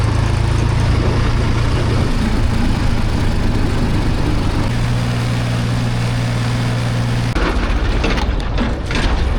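A tractor engine drones loudly and continuously while riding on it along a rural road near Kuldhara, with a steady low hum that shifts in pitch before easing off near the end.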